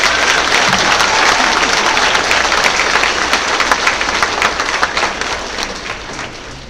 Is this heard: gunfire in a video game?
no